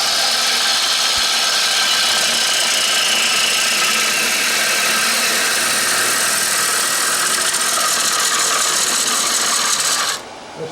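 A wooden bowl spins on a lathe as a gouge cuts it, making a loud, continuous rushing roar that cuts off abruptly near the end.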